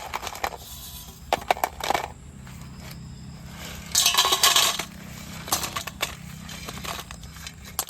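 Fresh crabs being washed in a pot, with clattering shell knocks and metallic scrapes in bursts and a stretch of splashing water, close and mostly without talk.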